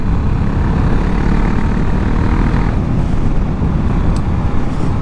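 A Husqvarna 701 Vitpilen with a KTM LC4 single-cylinder engine, heard while riding as a loud, steady roar mixed with wind rush.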